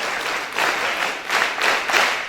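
A school audience claps together on cue at a National Librarian Day assembly, several loud bursts of group applause in a quick, irregular rhythm filling the room.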